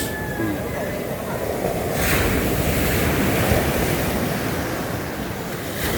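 Steady roar of ocean surf with wind buffeting the microphone, a continuous wash of noise that swells slightly midway.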